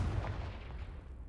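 A Confringo blasting curse explodes in a wizard video game, a dense, booming low rumble that sustains at steady loudness for over a second without any speech.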